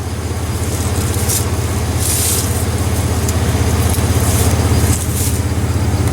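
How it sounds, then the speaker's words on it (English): Truck engine idling as the power source for jump-starting a 1968 2510 tractor, a steady low rumble with a strong even hum running continuously throughout, fairly loud and close, with no talk over it. "They are currently hooked up to a truck you hear in the background."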